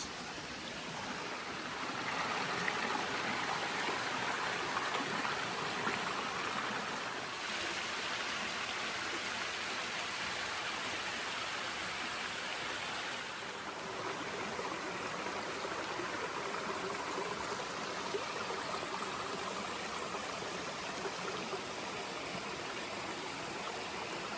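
Water rushes and burbles steadily in a flowing stream on the Appalachian Trail in New Hampshire, a constant broadband wash with no voices, close and fairly even throughout.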